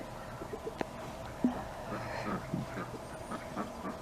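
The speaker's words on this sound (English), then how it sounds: "And there's the silly gooses." Geese and ducks calling in a farmyard on a sunny day: scattered honks and quacks, some brief and some drawn out, at moderate distance over a quiet outdoor background.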